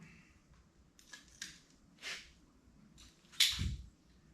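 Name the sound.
cutting with a razor blade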